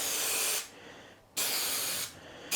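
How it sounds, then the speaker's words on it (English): Two loud, close hissing bursts from a spray adhesive can, each lasting under a second, separated by a quiet pause, with a third starting at the end. "we're going to put a little bit of spray in the middle"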